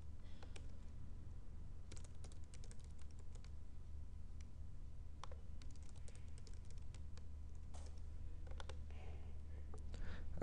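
Quiet computer keyboard typing as passwords are re-entered, with soft irregular key taps and clicks over a steady low hum, no talking.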